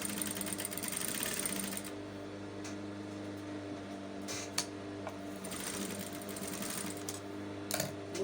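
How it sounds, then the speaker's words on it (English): A sewing machine stitches straight along a garment's seam allowance, a close, steady mechanical whirr for about two seconds, then quieter handling with a few soft clicks and taps and no talking. "go ahead and sew straight on the seam allowance"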